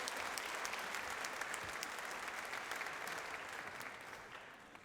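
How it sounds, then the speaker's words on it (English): Graduation audience at a high school ceremony breaks into a broad round of applause, many hands clapping steadily in a large hall, fairly distant and even, tapering slightly toward the end with no speech over it. "let's give ourselves a round of applause as we keep this going."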